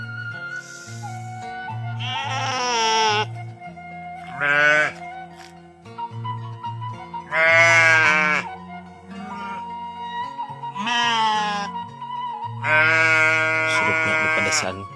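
Sheep and goats bleat repeatedly in a rural village in Cianjur, loud and close, in several long wavering calls separated by short pauses, over a steady low background hum.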